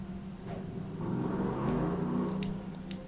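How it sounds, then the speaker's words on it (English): A car engine revs up steadily and rises into a sustained whirring roar, heard from a distance and moderately faint over a steady hum. "Oh, I hear an engine. Oh, they gotta rip it."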